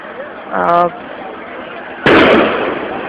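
Police fire rubber bullets and sound grenades at a street clash; one sharp, loud bang cuts in near the end and decays into a rough roar, after a brief voice shout earlier.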